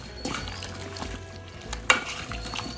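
Mutton being stirred in its marinade in a bowl, with soft wet stirring and scraping sounds coming close up and steady, one sharper clink standing out midway.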